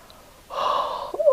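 An ogre snores while asleep in a French telling of Le Petit Poucet, a single close, loud rasping inhaled snore that starts abruptly after a brief quiet moment.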